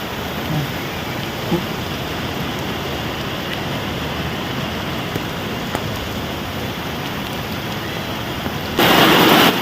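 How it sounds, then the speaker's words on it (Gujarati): Loud, heavy rain roars steadily and close, a dense unbroken downpour that surges even harder in the final second. "ફૂલ વરસાદ ચાલુ થઈ જાય ને હળવે હળવે વધતો જાય છે"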